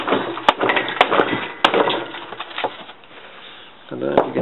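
Several sharp, cracking claw hammer blows strike a brittle fiberglass panel, with splintering impacts spaced irregularly and a voice talking between them.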